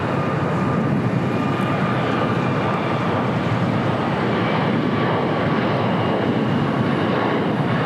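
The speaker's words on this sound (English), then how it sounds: "It's the flight coming up from Chicago O'Hare. It's United 757-300." A United Boeing 757-300 airliner from Chicago O'Hare roars steadily at LAX, a loud, continuous broadband jet engine noise with a faint high whine and no talk.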